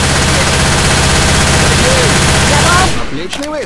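Automatic gunfire in the Left 4 Dead video game, dense rapid shots filling the clip loud and continuous before cutting off near the end, with game voices briefly heard.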